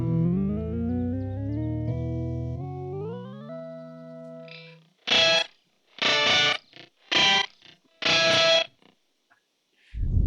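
A distorted guitar tone glides upward through stepped pitch jumps as a Hologram Electronics Chroma Console pedal shifts up an octave, then several short choppy bursts of heavily processed sound follow, separated by silence.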